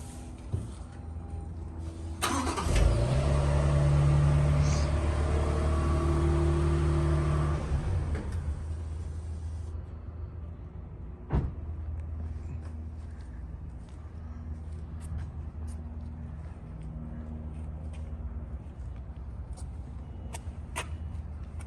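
2022 Toyota Tundra, lifted, starting up: a crank around the third second catches into a loud idle that settles after several seconds, then drops to a faint low rumble with occasional clicks.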